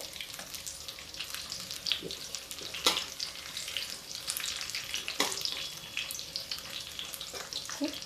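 Jackfruit pakoras fry in a pan of hot oil, a steady close sizzle with occasional louder crackles and spatters throughout.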